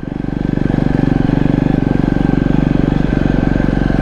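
A Jawa Perak motorcycle thumps steadily at cruising speed while being ridden, a loud, even, low engine beat with a rhythmic pulse and constant road and wind noise.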